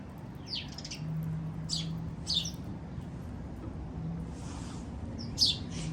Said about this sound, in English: I'm just watching these little birds over there. Feeding each other.